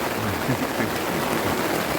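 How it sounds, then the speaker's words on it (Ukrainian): Steady rain patters on a tent during a wet morning at a campsite in Valencia, a dense continuous hiss of drops without any voices. "і такий дощик іде у мене тут"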